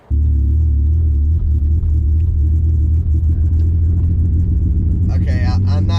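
A $900 BMW E34 535i runs and drives, its engine a loud, steady low rumble heard from close by, with a brief rise in pitch near the end.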